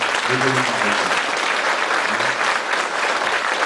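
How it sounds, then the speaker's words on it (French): Audience giving generous applause for the Moroccans, dense loud clapping throughout, with a voice speaking briefly over it near the start. "applaudissez généreusement les Marocains"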